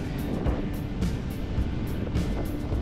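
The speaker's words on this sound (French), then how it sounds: "Les vagues sont hautes, puissantes, chargées d'une force brute, indomptable" Ocean surf on the beach at Montalivet in the Médoc, a steady broadband roar of breaking waves with repeated swells about every half second to second, close and continuous, with no voices.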